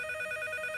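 A telephone rings in a French comedy sitcom scene: steady, continuous electronic ringing tones, fairly faint, without talk.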